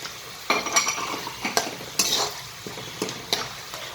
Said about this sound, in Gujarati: હવે આપણે કઢી પત્તા નાખીશું. પછી એમાં કોપરું નાખીશું.